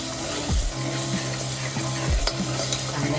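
Oil and homemade masala fry in a pan for spicy misal pav, a steady close sizzle with stirring scrapes throughout and a couple of brief heavier clatters, no voices.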